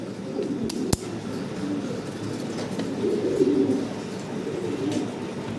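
Fancy pigeons coo in low, soft murmuring phrases at close range, with a couple of sharp clinks and steady background noise around them.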